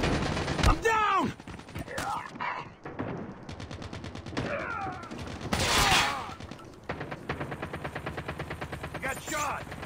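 Rapid automatic gunfire bursts and single shots crack through a Call of Duty: Mobile firefight, with repeated machine-gun rattles, sharp impacts and mechanical clicks, while voices speak between the volleys.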